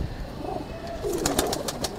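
Long-legged male chandakhani pigeons coo softly at close range against a steady background hiss, with a brief higher chirp near the end and no talk.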